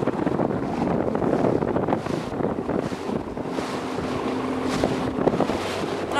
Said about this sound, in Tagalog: At dahil na nagsimula ng ulan, tapos malakas pa yung alon, lahat na ng pasahero basa na.